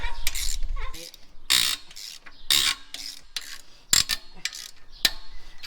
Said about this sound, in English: Torque the head bolts down to 90.